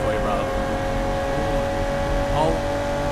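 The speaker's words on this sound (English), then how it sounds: "Okay, the engine is loud." Simulated car engine from the video game Automation, a steady droning tone held at constant pitch throughout, loud and continuous with a slight rise near the end, while someone talks faintly over it.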